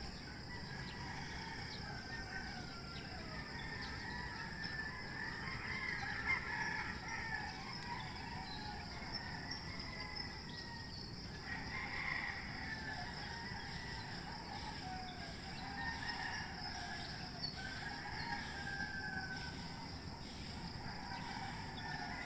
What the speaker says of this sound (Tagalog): tunog na mga ibon at saka manok